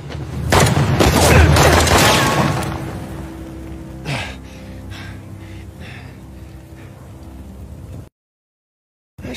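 Gunfire in the Uncharted video game, with a heavy burst of booming shots up front followed by scattered sharper cracks and mechanical clatter that fade out near the end.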